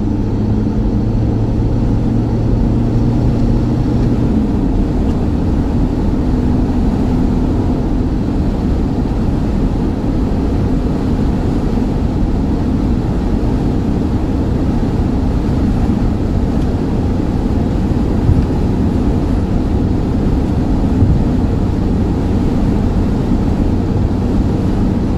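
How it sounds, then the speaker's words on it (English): A VW T25 T3 van with a high top and new steering rack poly bushes driving at speed, a loud steady engine drone and road roar with wind noise throughout, no talking. "let's get a bit of speed up here now"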